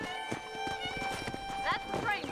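Rhythmic clip-clop of horse hooves at a brisk pace in the video game Red Dead Redemption, a horse whinnying briefly, with voices and a faint music tone over it.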